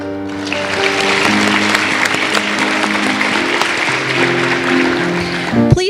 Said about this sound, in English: Please join me for a round of applause for our students from Timber Creek Elementary